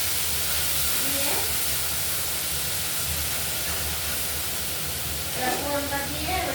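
Ginger and cumin powder tempering for sona moong dal and Gobindobhog rice khichuri gives off a steady, even sizzling hiss throughout, with a few faint clinks near the end.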